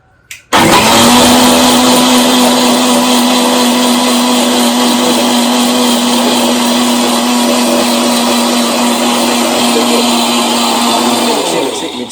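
A kitchen mixer grinder whirs loudly and steadily for about eleven seconds while grinding chutney for dosa, starting abruptly and winding down at the end.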